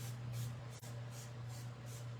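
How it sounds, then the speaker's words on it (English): A squirt bottle spritzes water onto watercolor paints in a run of soft, evenly spaced hissing sprays over a steady low hum. "I'm going to use my squirt bottle to start to activate my watercolors. And I'm just going to spray everything"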